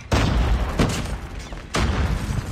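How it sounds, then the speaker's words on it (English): A grenade explodes in a first-person shooter game during a ranked online match, a loud booming blast followed by further heavy bursts of explosive fire, with no talking. "Throw this there. I grenaded."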